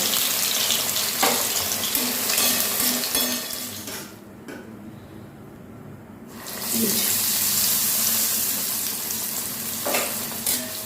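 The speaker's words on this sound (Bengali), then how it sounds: "এই যে এখানে এখন আমি বেগুনি ভাজছি" Battered eggplant fritters frying in a small amount of oil in a wok, a loud, steady close sizzle that drops away for about two seconds midway and then resumes at full strength.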